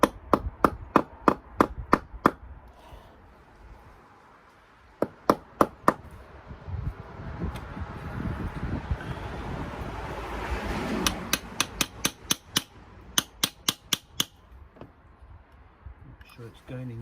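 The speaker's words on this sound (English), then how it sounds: "I've got a bit of wood, and now we're going to hammer it in" A socket is hammered through a piece of wood to seat a plug during a Mercedes CLK55 AMG oil-leak repair. Sharp, close metallic taps come in quick runs with quieter pauses and scraping between them.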